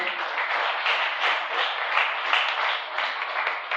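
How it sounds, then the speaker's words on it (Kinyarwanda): A church congregation gives a sustained burst of applause that fills the room steadily and evenly from start to finish, with no voices clearly standing out. "Dukomere abakozi b'Imana amashyi menshi"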